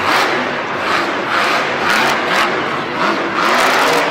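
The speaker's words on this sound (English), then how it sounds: "Oh my goodness, a crazy sky wheelie from Gravedigger" Grave Digger monster truck at a Monster Jam arena event in Pittsburgh in 2017, its engine roaring and revving loudly and steadily through a sky wheelie while a crowd cheers around it.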